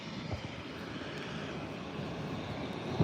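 A passenger airplane taxiing in at San Diego Airport, its engines giving a steady, broad mid-distance whine and rumble that holds level throughout, with no talk over it.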